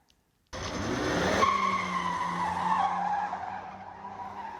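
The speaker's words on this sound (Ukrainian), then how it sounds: "ви можете бачити перший дріфт цієї BMW" A BMW E28 drifts on dry asphalt in a parking lot, its tires letting out a loud, sustained skidding squeal that rises in pitch and then slowly fades, with engine rumble underneath.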